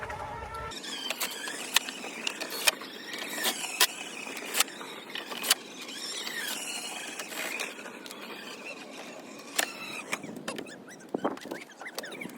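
Rapid clicking ratchet strokes tighten bolts on an Infiniti Q60 during a rebuild, coming in quick bursts of sharp ticks with short pauses between them, close and fairly clear with no speech.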